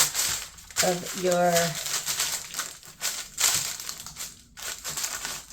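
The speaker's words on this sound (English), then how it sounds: "fold your parchment over the dough and push at the very bottom" Parchment paper crinkles and crushes as almond shortbread dough is pressed with a bench scraper, a close, rustling crackle that runs under a voice speaking briefly.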